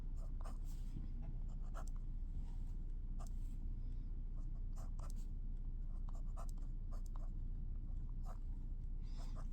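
Handwriting out a logic proof with premises, conjunctions and numbered assumption lines: a pen or pencil scratches and taps in short, irregular strokes, close and quiet, over a steady low background hum.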